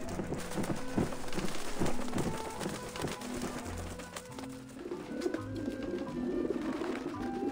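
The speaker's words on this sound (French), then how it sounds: "On m'a mis du pain sur les petits pigeons." Pigeons coo in the Grim Fandango video game, soft repeated calls over a busy background of game sounds with faint clopping, steady and moderately loud throughout.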